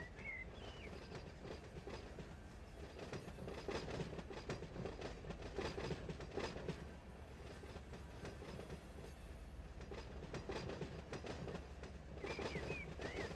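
Heavy freight train rolling slowly through a big rail yard in the Run 8 simulator, a low steady rumble with faint rhythmic wheel clatter and an occasional thin squeal, quiet, with no talking.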